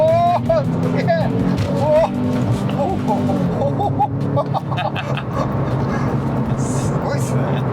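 A Porsche 911 Carrera (997) in Violet Blue Metallic accelerates from inside the cabin, its engine a steady low drone that builds beneath continuous conversation between occupants.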